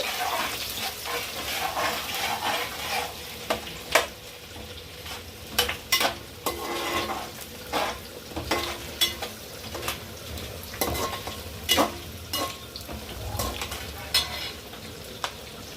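Sliced onions and green chillies fried in a pan until browned for chicken curry, producing a steady sizzle under repeated loud spatula scrapes and clinks against the metal.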